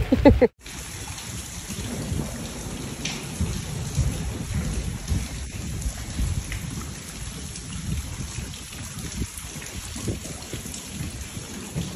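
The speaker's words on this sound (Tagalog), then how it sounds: "Grabing ulan." Heavy rain pours steadily in a thunderstorm, with low rumbles of thunder rolling underneath the dense hiss of falling water; a brief sound at the very start cuts off before the downpour settles in.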